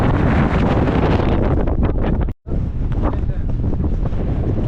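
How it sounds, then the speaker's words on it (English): Heavy wind buffets the microphone on the Coniston Old Man fell walk in the Lake District in a loud, steady roar, broken by one brief dropout. "It's a windy one."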